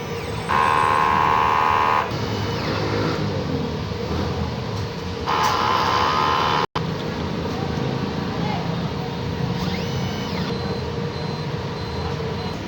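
60 cm DTF printer running a print head cleaning cycle, a steady mechanical hum with two loud high buzzing bursts from the pump or carriage, close by.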